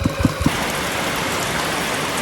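Rain falls steadily overnight in a flood-prone area, a dense continuous hiss of drops on surfaces, with a few brief low knocks at the start.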